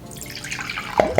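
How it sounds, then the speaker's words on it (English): Water poured from a ceramic gurgle pot gives a short trickle, then two quick bubbly gurgles near the end, close and fairly quiet. "let me show you the gurgle pot as I pour some water"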